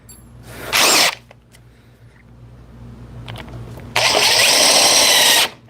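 A DCF860 impact driver, after a year of heavy use, runs in two loud bursts, one short and one longer, over a low background hum.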